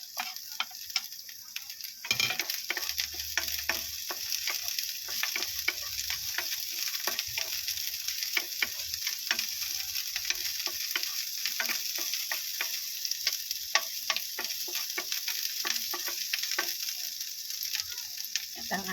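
Onions fry in a pan with a constant bright sizzle and scattered crackles, plus light stirring scrapes and clicks, close by and loud throughout, with no talking.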